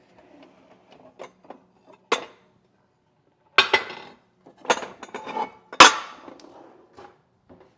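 A big ceramic baking pan handled on a counter, giving a few sharp clinks and knocks spaced out between quiet gaps, close and fairly loud, with no speech.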